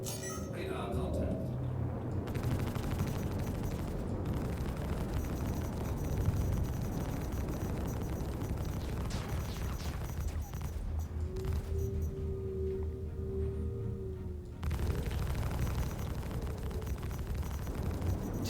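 Heavy gunfire and explosions in a video game form a continuous dense roar throughout, with a steady tone rising partway and people talking over the din.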